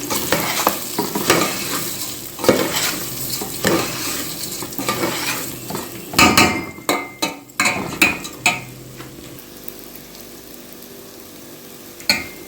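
Rice with black pepper and cardamom stirred in a pot, a steady scraping swish with faint sizzling for about six seconds, then a few sharper utensil knocks and clinks before it goes quieter.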